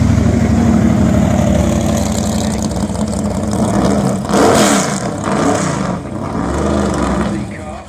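A BRM 8-litre V8, the marque's first sports car, runs loud and close with a deep, rough rumble, rising and falling through revs at a Goodwood Festival of Speed event while a commentator talks over it.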